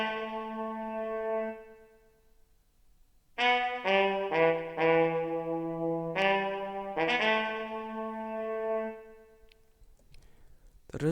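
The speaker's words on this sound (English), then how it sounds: "The reason why the trumpet sounds like that is because it has delay." Trumpet sample from the Expand plugin with a delay effect, playing a short melodic phrase of clean sustained notes that blur into faint trailing echoes, with quiet tails between the phrases.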